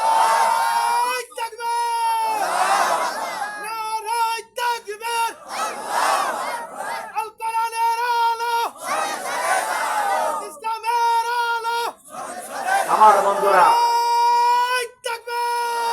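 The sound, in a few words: crowd chanting takbir (Allahu Akbar) in response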